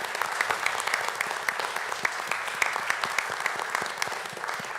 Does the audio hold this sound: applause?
yes